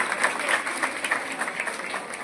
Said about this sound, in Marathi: प्रथमतः सगळ्यांनी जोरात टाळ्या वाजवा वहिनी साहेबांसाठी, जोरात।